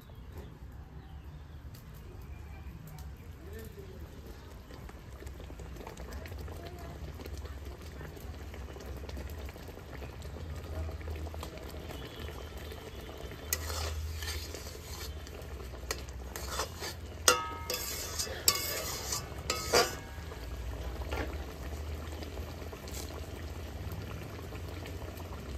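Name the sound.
fish curry gravy boiling in a pot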